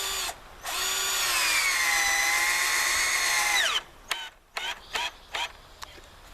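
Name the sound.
power drill driving screws into chicken tractor boards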